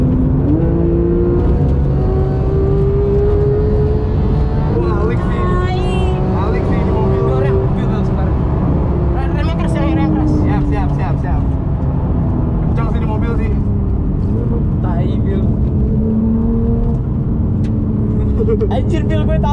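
Porsche GT3 engine on Sentul Circuit, a steady drone with rising and falling pitch as the car accelerates and eases off, heard from inside the cabin with people talking over it throughout.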